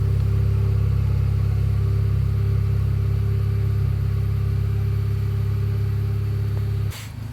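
A Honda Civic Type R FK8 fitted with an HKS Legamax exhaust idles on a cold start, a loud, steady low droning rumble close by that holds evenly, then drops slightly near the end with a brief click.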